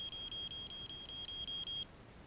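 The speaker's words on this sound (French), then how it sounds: "Si vous enlevez votre canne, et ben ça bip." A metal detector's high-pitched anti-theft alarm beeps rapidly about nine times in an even rhythm when its cane is removed, then stops abruptly, leaving quiet room tone.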